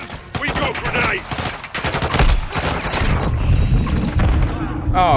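Grenade blast and rapid gunfire in Call of Duty Modern Warfare 2 Remastered on PS5: a loud boom followed by dense bursts of automatic fire that continue throughout, close and heavy.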